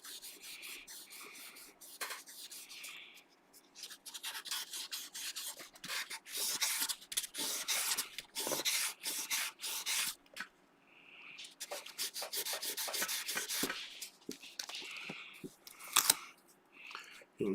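Guitar frets being sanded during a fret recrowning job, with a steady near rasping scrub in repeated back-and-forth strokes, pausing briefly and then resuming, with occasional faint talk.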